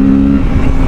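A 2024 Kawasaki Z650 motorcycle on a highway gives a loud, close, deep engine drone with a held tone that shifts partway through as it accelerates.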